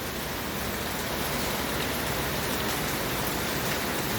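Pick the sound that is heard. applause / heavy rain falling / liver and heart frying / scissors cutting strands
heavy rain falling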